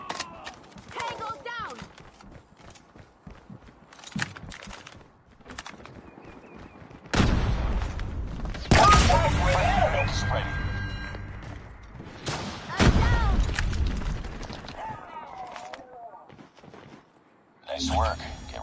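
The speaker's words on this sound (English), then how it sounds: "airstrike incoming" Airstrike explosions and gunfire in a multiplayer shooter match, with scattered shots followed by heavy booming blasts in bursts, loud and near, under announcer voice lines.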